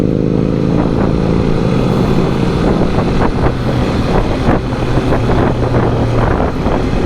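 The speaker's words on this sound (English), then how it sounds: "the sweet sound of the inline 3" A 2020 Triumph Street Triple RS demo bike with an inline-three engine runs steadily and loud throughout, a continuous droning roar with small rises and falls in pitch as it rides along, no voices.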